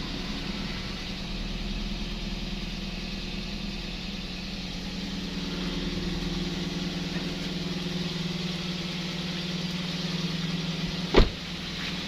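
Toyota Vios Limo third-generation sedan idling steadily at about 1000 RPM with the hood open for radiator cleaning, a constant low engine hum close by, a single sharp click near the end, no talk.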